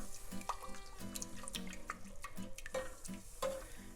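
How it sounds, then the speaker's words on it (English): A spoon stirs thick cheese sauce for crawfish mac and cheese in a pot, giving steady wet scraping and soft squelching with a few light clinks, close and continuous. "And so I'm just going to keep stirring this in."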